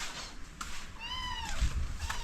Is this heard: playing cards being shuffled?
no